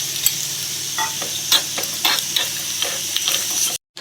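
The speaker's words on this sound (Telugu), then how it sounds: "ఇప్పుడు పోపు వేగిందండి" Mustard seeds and spices for tempering crackle and sizzle in hot oil in a pan, a dense steady fry with frequent sharp pops, close and fairly loud, for an Andhra-style brinjal curd chutney.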